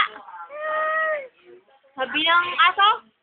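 A young voice imitates a cat's meow, first with a steady mewing tone and then with a wavering, bleating cry after a short pause. Close and clear.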